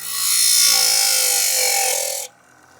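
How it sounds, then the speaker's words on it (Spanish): A bench grinder whines steadily for about two seconds while polishing a seed, a bright sustained grinding hum that cuts off abruptly into near silence. "el esmeril que utilizamos para pulir la semilla"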